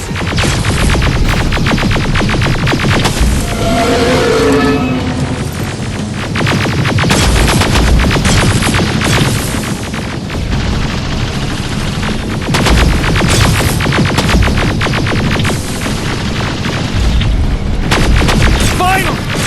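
Sustained gunfire aimed at a robot in Terminator: Resistance, a loud, dense stream of shots and booms across the whole stretch with a brief voice near the start.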